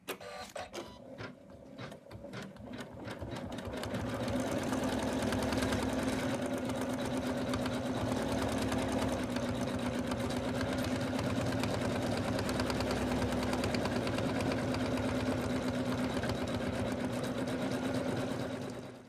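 An embroidery machine stitching the headband of an in-the-hoop snowman stocking, a fast continuous mechanical chatter with a steady hum, starting with a few uneven clicks before settling into constant stitching.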